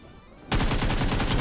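Rapid automatic gunfire in a video game erupts suddenly after a quiet half second, a loud burst of close, evenly spaced shots continuing to the end.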